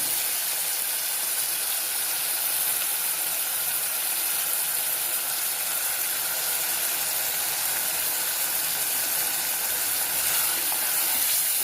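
Prawns sauté in a pan for a prawn gravy, giving a continuous, even sizzling hiss with no pauses for its full length and no voices.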